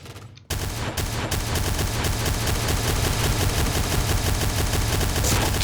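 Sustained rapid automatic fire from a Noveske N4 rifle in the video game Point Blank, a dense, steady stream of loud shots starting abruptly after a brief silence and continuing without pause.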